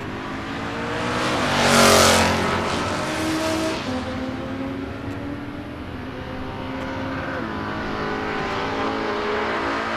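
Suzuki drag racing motorcycle at a West Coast Hot Rod Association season finals elimination, a loud engine roar sweeping past at about two seconds, followed by rising and falling engine pitches fading down the strip.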